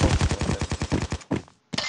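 Rapid automatic gunfire in the video game Payday: Crime War, a fast, even burst of loud shots followed by a couple of separate shots after short pauses.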